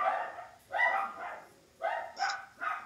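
A couple of dogs bark from a car's back seat, giving five sharp, muffled barks in two groups with brief pauses between, fairly faint and with no talking.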